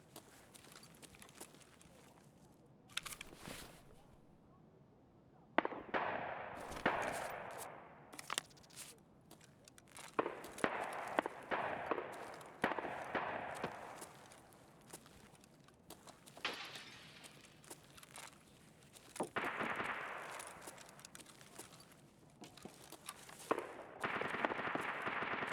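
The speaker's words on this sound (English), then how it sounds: "Those shots are popping off." Scattered gunshots in Escape from Tarkov, irregular bursts and single cracks at varying distances across a long stretch of game ambience, some near and loud, others faint, with no talk.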